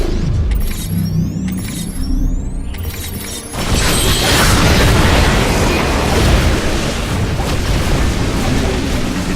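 Heavy booming blasts and crackling bursts fill the scene in a StarCraft campaign, a dense, loud barrage of cannon-like explosions after a brief stretch of game sound effects.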